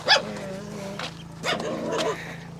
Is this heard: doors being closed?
no